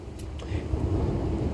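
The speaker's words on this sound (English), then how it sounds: "Thunder. You hear that? Kind of cool, huh?" A low, distant rumble of thunder rolls on continuously, a soft broadband growl with no sharp crack.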